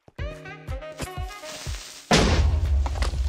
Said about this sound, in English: The creeper explosion uncovered diamonds.